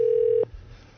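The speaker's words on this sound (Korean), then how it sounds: "자, 지금 전화를 걸어보겠습니다." A telephone dial tone hums steadily for a moment, then cuts off abruptly as a call is placed, followed by faint line noise and quiet background.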